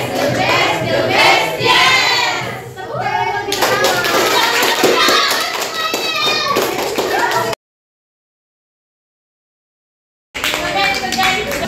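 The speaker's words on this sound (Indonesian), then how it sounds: "Tepuk tangan lebih" A classroom of students claps hands together in loud rhythmic bursts mixed with children's chanting and shouting voices, cut by a few seconds of silence before the clapping and voices resume.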